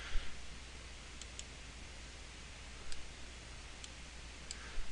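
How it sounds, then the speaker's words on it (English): Several faint, sharp mouse clicks tick at irregular intervals, about five in all, over a quiet background hiss as the on-screen down arrow in lens design software is pressed, with no talking. "I'm clicking the down arrow"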